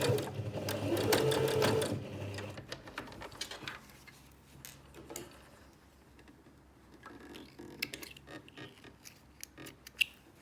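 A sewing machine stitches a zip for a zipped make-up pouch, running in a fast, close burst at first and then in short, quieter stop-start runs with small mechanical clicks.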